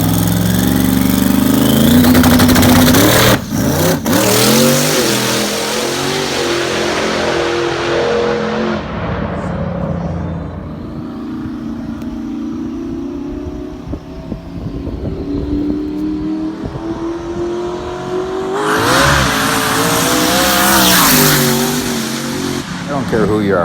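Drag racing car making a pass on new tires and tubes with low tire pressure, a loud close engine roaring and revving hard, fading as it pulls away, then surging again near the end.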